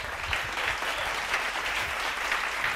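A congregation claps together during a Christian sermon, a steady, moderately loud patter of many hands with slight surges, heard alone without talk.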